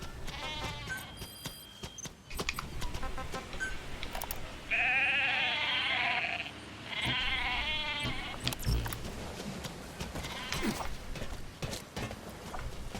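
Goats bleat repeatedly in Metal Gear Solid V: The Phantom Pain, with two long, loud, quavering calls in the middle of the clip and quieter clicks and thumps of movement around them, with no talking.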